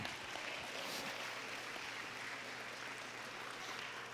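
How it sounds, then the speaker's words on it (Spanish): Faint, steady applause from a church congregation, distant and continuous throughout, with no voices over it. "Denle un aplauso a Jesús"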